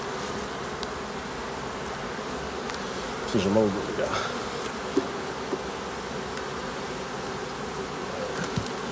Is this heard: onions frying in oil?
no